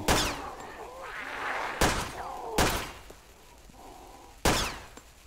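Gunshots in the DayZ video game ring out as four sharp, loud blasts spread over a few seconds, each with a short echoing tail, with faint game ambience between them.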